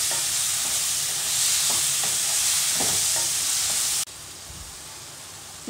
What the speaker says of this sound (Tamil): நம்ம இதில் கட் பண்ணி வச்சுருக்கிற பழத்தை போட்டுடலாம்.